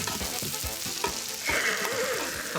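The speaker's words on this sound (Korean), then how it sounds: "불판 위에서 지글지글 익어가는 고기를 보면서" Pork belly sizzles on a hot grill plate at a local restaurant, a loud steady crackling fry close up with sharp pops and spattering bursts throughout.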